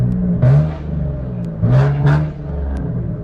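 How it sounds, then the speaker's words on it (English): A turbocharged Hyundai Genesis Coupe engine, just repaired after a spun bearing, revs hard in two bursts, roaring up and dropping back to a rough idle between them, close and loud. "Probably shouldn't be revving it so hard"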